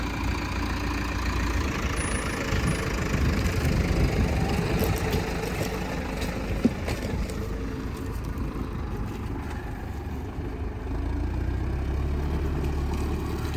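A tractor engine runs continuously at a steady, loud, low rumble during field work with an applicator and heavy discs, with no speech over it.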